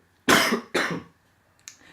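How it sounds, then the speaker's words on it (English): Two harsh, loud smoker's coughs in quick succession, followed by a brief faint breath or rustle. "smoker's cough there"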